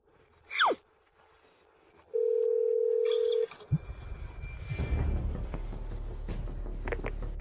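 A telephone dial tone holds steady for about a second and a half while a call is placed. A brief electronic chirp comes before it, and a louder musical background swells in afterward.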